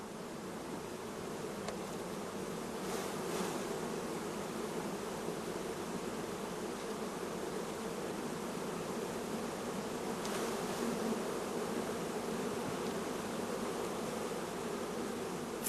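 Bees shaken into a hive box while setting up nuclei give a steady, dense buzzing swarm drone, close and continuous throughout, with no voices.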